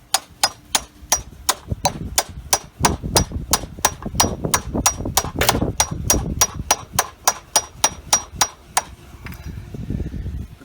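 Metal-like hammer taps drive an automatic pool cover track into place, a steady series of about thirty sharp ringing clinks at a regular fast rhythm, close and clear, ending with softer rustling.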